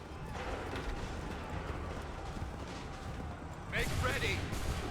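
Musket volleys and galloping horses in the video game Assassin's Creed III, a dense rumbling battlefield din with hoof clatter throughout, then a louder burst of firing and shouting voices near the end.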